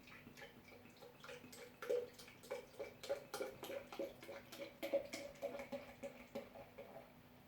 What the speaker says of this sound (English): And let's pour it up.